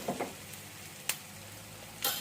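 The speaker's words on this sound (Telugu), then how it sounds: "కరివేపాకు కూడా చిట్పట్టమన్నది కదా" Curry leaves crackling and sputtering in hot oil in a pan, a steady soft sizzle broken by a few sharp pops, quiet and close.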